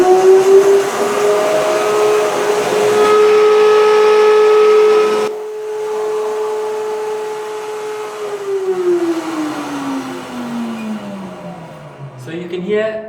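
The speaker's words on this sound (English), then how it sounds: "So let's get the blender going." A DNA commercial blender motor whines steadily at high speed, stepping up from level 1 to 8 partway through, then winds down with a falling pitch near the end.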